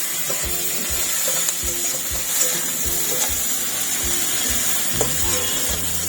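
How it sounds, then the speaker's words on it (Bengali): Onions sizzle in a hot pan for a Bengali moong dal with fish head, a steady close frying hiss with faint stirring scrapes and clinks, no voices. "হ্যাঁ, পেঁয়াজটা একটু লাল লাল করে ভেজে নেবো।"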